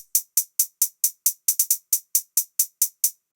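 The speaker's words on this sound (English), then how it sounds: "And then we have the hi-hats, which sound like this." Crisp closed hi-hat sample hits in a steady, fairly quick trap beat pattern, about fifteen sharp ticks with a few doubled strokes, dry and isolated.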